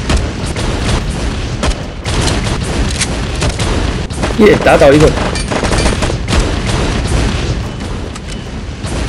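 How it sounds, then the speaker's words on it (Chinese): Cannon fire bombarding enemies in the game LifeAfter: rapid booming shots and gunfire bursts rattle continuously, loud and dense, with a cheering voice and game chatter over the top. "我们现在站在上面的人不断用炮火轰击下面的敌人了"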